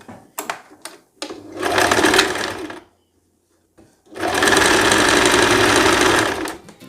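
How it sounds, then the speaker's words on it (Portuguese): A sewing machine topstitches a dress seam in two close, steady bursts of stitching, the second longer, with a short quiet pause between them and no talking. "Você vai virar essa parte da costura para o seu revel e vai fazer um pesponto aqui agora"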